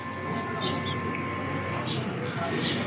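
Birds call and coo in short bursts near an outdoor pizza table at a Disney World resort, set against steady background hum and murmur with a faint tonal whine.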